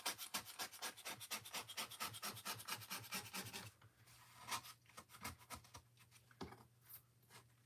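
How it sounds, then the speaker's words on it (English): A sign scraped by hand with rapid rhythmic back-and-forth rasping strokes, close and steady at first, then slower scattered scrapes, faint overall with a low hum underneath. "I don't wanna be here all night scraping this"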